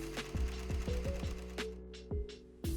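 An embroidery machine stitching a design on a garment gives a close, rhythmic run of sharp mechanical needle thumps with short pauses between bursts.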